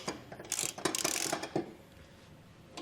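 A hand ratchet clicks in quick bursts while tightening the bracket bolts of Westin E-Series round nerf bars on a 2021 GMC Sierra, crisp and close, with a couple of short runs of clicks and then quiet.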